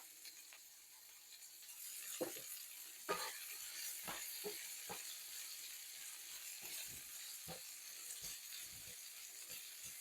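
Onions with fajita seasoning sizzle in a pan, a soft steady frying hiss broken by scattered pops and spatters, faint and heard alone with no talking.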